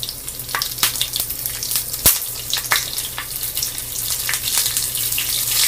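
Green chillies, curry leaves, mustard seeds and cumin sizzle in hot oil with a steady bright hiss, and scattered pops and crackles rise above the frying with no talk.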